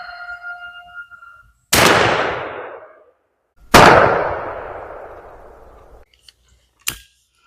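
Remington .410 bore shotgun with a 3-inch chamber firing Express XLR game loads of 7.5 shot outdoors, two loud sharp blasts a couple of seconds apart, each with a trailing echo, then a faint click and a smaller crack.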